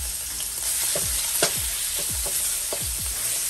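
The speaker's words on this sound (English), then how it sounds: "the next thing I'm going to add is our bacon" Bacon sizzles and fries in avocado oil in a wok for seafood fried rice, a steady crackling hiss broken by several sharp pops and spits of fat, close and alone without voices.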